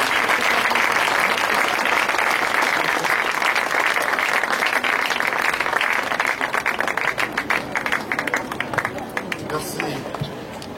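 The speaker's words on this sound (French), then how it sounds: "Le pasteur sera reçu sous l'acclamation pour la gloire de Dieu." A church congregation applauds and cheers loudly to welcome the pastor, producing a dense, sustained roar of clapping with crowd voices mixed in that thins into scattered claps near the end.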